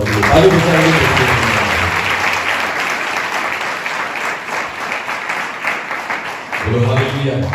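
A church congregation claps together in a dense, sustained wave of applause, and a voice joins in at the start and again just before the end.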